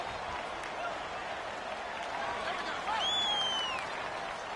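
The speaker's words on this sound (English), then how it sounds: "And the crowd getting into it as we come up on a big 3rd down." Stadium crowd in a football video game swelling with cheers ahead of a big third down, a steady broad roar with a brief whistle-like rise partway through, under and around commentary.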